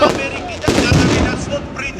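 New Year fireworks bursting close by in Tbilisi, Georgia: loud, sharp booms and crackles, with a heavy blast partway through over a continuous crowd din.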